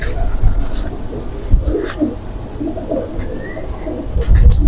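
Pigeons coo in soft, repeated low murmurs close by, with a few higher chirps and rustling in the background; the birds are fancy breeds including Lal Peri.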